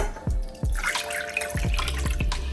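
General Tso sauce pours into a cooking pot, with liquid splashing and glugging in several bursts and soft drips, fairly close and loud with no voices.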